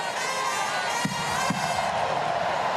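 Steady broad roar of a 30,000-strong stadium crowd barracking against the visiting side at an Australia versus Netherlands women's soccer match, a continuous distant wash with two brief louder bursts midway.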